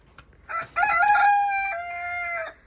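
A single loud rooster crow rings out close by, a long drawn-out cock-a-doodle-doo after a brief short call.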